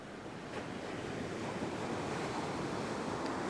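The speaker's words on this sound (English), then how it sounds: "Because there's quite a few waves washing around out there at the moment." Turbulent surf washing steadily onto a fishing beach, a continuous broad roar of breaking waves with wind noise buffeting the microphone throughout, no voices.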